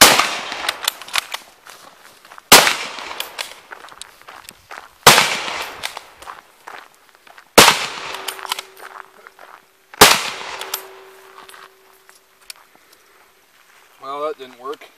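Shots from a French MAS 36 bolt-action rifle, five loud sharp reports spaced about every two and a half seconds, each followed by a short echoing tail, with a brief voice near the end.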